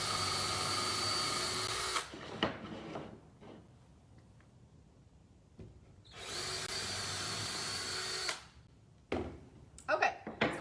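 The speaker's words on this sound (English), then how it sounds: "So I'm going to drill 2 pilot holes here, about one inch in." Power drill boring pilot holes into wooden trellis rails, two loud whining bursts of about two seconds each separated by quieter handling and knocks, ending with a few short spurts; voices speak in the gaps.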